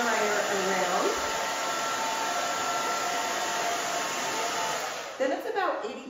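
A handheld blow dryer runs steadily as a stylist dries a short pixie haircut with bangs on an older woman, a constant loud whooshing hum with faint voices at the end.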